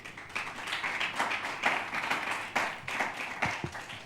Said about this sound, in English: A round of applause for Aisling Kwak.